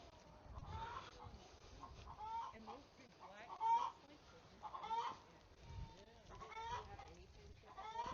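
A rooster clucks and makes short calls several times at close range, with soft rustling and faint voices in the background.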